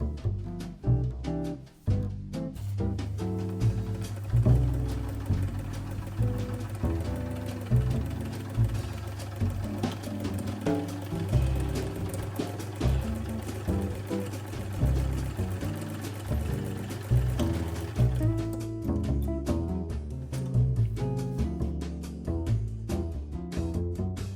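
A hand-cranked knitting machine turns with its gear closed, giving a continuous rhythmic mechanical clatter that carries on steadily and prominently for the whole stretch.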